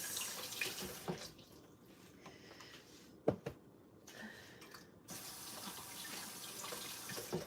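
Tap water runs into a sink while food is rinsed under it, a steady splashing that stops briefly in the middle with a few clinks before the flow resumes.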